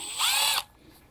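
A power drill whirs loudly for about half a second, backing out a T30 Torx screw that holds the front brake rotor to the hub on an Audi S5, then cuts off into a quiet garage.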